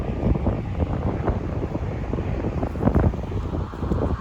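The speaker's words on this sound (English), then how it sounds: "because it's so windy" Strong wind roars continuously across the microphone on a boat while ocean fishing, a loud steady buffeting with occasional harder gusts and no talking.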